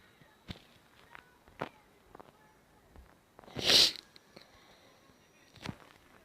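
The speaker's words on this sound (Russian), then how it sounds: "простите, что я шмыгаю" A person with a runny nose who is feeling unwell gives one sharp, close sniff, set among quiet scattered clicks and taps indoors.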